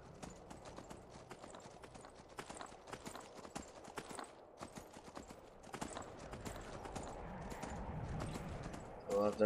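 Horse hooves clip-clop in a steady rhythm as a horse travels in the video game Skyrim, faint and continuous, with a muffled rumble building toward the end.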